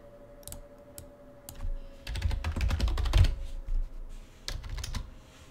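Keystrokes on a computer keyboard typing out a file name, a quick run of close, crisp clicks with bursts of rapid taps and short pauses, no voices over them.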